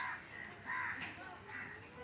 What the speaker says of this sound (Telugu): పక్షులు కానీ ఎంతో ఎంజాయ్ చేస్తున్నాయి చూడండి.